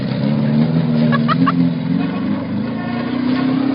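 A car engine idles steadily with a low, continuous rumble, close and fairly loud, with a few faint higher whines briefly heard on top.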